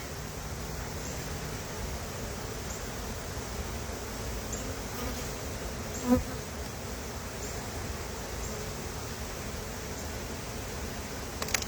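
Honey bees buzz around an opened hive, a dense, continuous drone filling the air at close range, with a single brief knock partway through.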